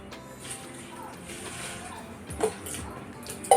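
Flattened rice (poha) being rinsed in water in a vessel, with soft continuous sloshing and trickling up close, a couple of sharper splashes near the end, and faint talk in the background.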